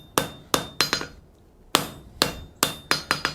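Sharp metallic hammer blows ring out on steel bar stock held in a scroll bending fork on an anvil, about a dozen close, loud strikes in uneven bursts with a brief pause midway.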